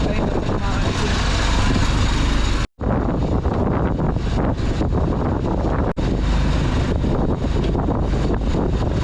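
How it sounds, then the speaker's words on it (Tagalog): Strong storm wind buffets the microphone with a loud, continuous roar and gusty rumble, broken by two brief dropouts, with muffled talk faintly underneath. "dahil malakas yung hangin"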